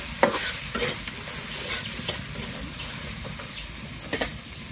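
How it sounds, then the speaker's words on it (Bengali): Spices with chili powder and turmeric fry in a pan for a chicken curry and are stirred, a close, steady sizzle with repeated scraping strokes of the spoon and no talking. "সব মিলিয়ে মশলাগুলো ভালো মতো কষিয়ে নেব।"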